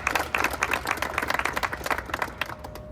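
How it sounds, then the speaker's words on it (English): Applause at a press conference, a sustained crowd of hands clapping in quick, irregular bursts that tapers slightly toward the end. "Let's give them a round of applause."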